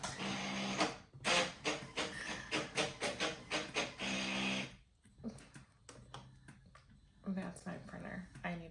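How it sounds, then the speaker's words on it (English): A home office printer running, giving a rhythmic mechanical whirring and clattering in pulses, with a pause partway through before quieter feeding sounds resume, fairly close and with no talking. "That's my printer."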